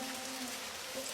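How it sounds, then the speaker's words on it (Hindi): Heavy, steady rain falling through a stormy night, a dense, even hiss with no pauses, moderately loud and heard alone without any voices. "मूसलाधार बारिश रुकने का नाम ही नहीं ले रही थी।"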